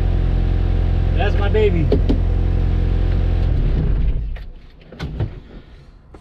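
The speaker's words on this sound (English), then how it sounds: "There's a drive in the Samurai. It's noisy, right?" Suzuki Samurai diesel engine idling with a steady low rumble close by, loud and continuous for about four seconds before dropping off, with someone speaking briefly over it and a clunk near the end.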